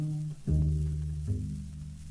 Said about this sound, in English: You can pluck the strings and make a sound like this.